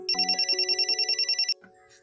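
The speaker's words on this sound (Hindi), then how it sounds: "अच्छा एक सेकंड, फोन है," A telephone bell rings in a rapid, even trill for about a second and a half, loud and close, then cuts off, leaving a quiet room in a Pakistani drama scene.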